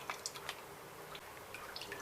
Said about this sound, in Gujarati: આ રીતે આપણે બધું જ પાણી નિતારી દેવાનું